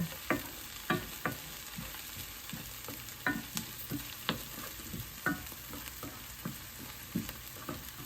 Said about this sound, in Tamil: ஓரளவு பொரிஞ்ச மாதிரி வந்துட்டு கடுகை போடுவோம்